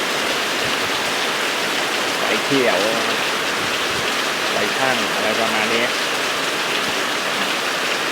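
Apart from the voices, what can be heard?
rain falling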